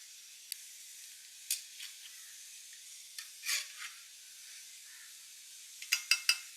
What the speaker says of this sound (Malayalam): നമ്മുടെ സവോളയൊക്കെ ഫ്രൈ ആയി വന്നിട്ടുണ്ട്